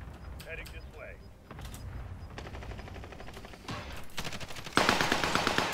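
Gunfire in a battle royale game, with scattered shots building into rapid automatic bursts that grow louder and closer toward the end, while a player talks over the early part.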